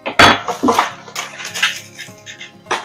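Kitchen utensils clatter and clink as someone rummages through a drawer hunting for a whisk, with quick metallic rattles and knocks coming in irregular bursts, close up.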